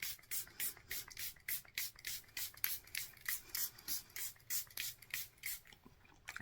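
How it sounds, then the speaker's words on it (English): Makeup setting spray misted from a pump bottle over a freshly powdered face, about twenty short, even hissing bursts in a steady rhythm, close and fairly quiet with no talking. "The powder melt spray."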